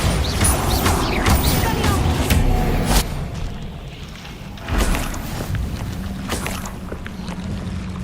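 A Bombarda blasting spell cast in the game Hogwarts Legacy, heard as a loud burst amid busy mechanical clatter and creaks, followed by a second sharp impact a couple of seconds later over lingering rumble.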